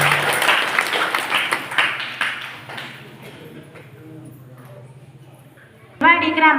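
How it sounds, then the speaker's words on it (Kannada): An audience at a gathering at Shri Udayalingeshwara Mahamath in Nagathana village, Vijayapura taluk, bursts into loud clapping that thins and fades over several seconds, with a steady low hum beneath and a brief sharp sound at the end. "ತಮ್ಮೆಲ್ಲರ ಜೋರಾದ ಚಪ್ಪಾಳೆಯೊಂದಿಗೆ ನಾನು ಅವರಿಗೆ ವಿನಂತಿ ಮಾಡ್ಕೊಳ್ತಾ ಇದ್ದೀನಿ"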